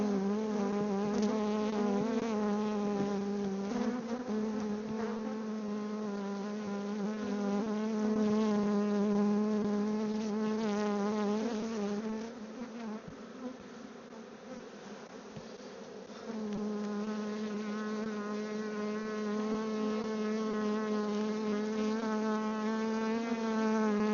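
Honey bees hum in a dense, continuous buzz around an open hive at a maple farm, close by and steady with no voices.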